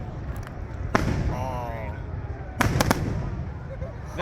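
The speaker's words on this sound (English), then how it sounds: "those fireworks are super cool" Canada Day fireworks burst with sharp booming cracks and crackles, a few loud reports against a noisy crowd, with people exclaiming nearby.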